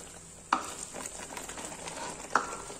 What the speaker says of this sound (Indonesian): Tumis bumbu hingga airnya menyusut dan hingga mengeluarkan wangi ya bunda.